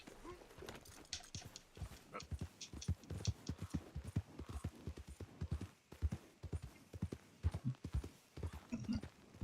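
Galloping horse in Red Dead Redemption 2, clip-clop hooves pounding in a fast, steady rhythm throughout, fairly quiet in the mix with a faint snort or two near the end.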